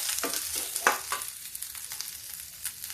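Lentils fry in a pan with chopped onion, a steady close sizzle punctuated by crackles and a few scraping stirs, with no talk over it.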